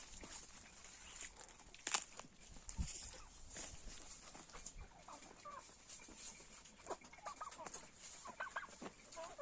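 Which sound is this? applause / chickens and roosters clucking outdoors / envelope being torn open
chickens and roosters clucking outdoors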